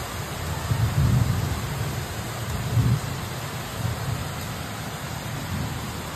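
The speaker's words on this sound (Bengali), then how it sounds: "এখন এত বৃষ্টি হচ্ছে, প্রচণ্ড পরিমাণে তো বৃষ্টি হচ্ছে" Heavy rain pours in a dense, continuous hiss, with low rolls of thunder rumbling underneath at intervals, fairly loud.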